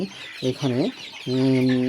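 Close-up chicken clucks on a poultry farm: a couple of short clucks followed by a longer, drawn-out cluck, fairly loud and clear.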